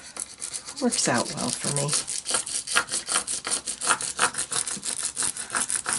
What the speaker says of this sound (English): I like to burnish with a spoon.